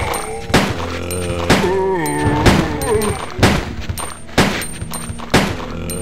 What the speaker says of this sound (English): you can just hold down the fire button and she fires